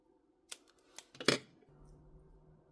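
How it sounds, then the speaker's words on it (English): Scissors snip through a crocheted yarn end, giving three or four quick, crisp, close cuts within about a second, with a soft low hum after them. "you can go ahead and cut your end"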